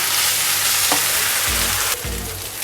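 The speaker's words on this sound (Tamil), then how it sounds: "இப்போ இதில் இஞ்சி பூண்டு பேஸ்ட் சேர்த்து அதோட பச்சை வாசனை போகிற வரையும் வதக்கிக்கலாம்" Ginger garlic paste sautéing in hot oil in a pan for a Madras-style chicken curry, a steady sizzle with a couple of brief stirring scrapes, close and alone without talk.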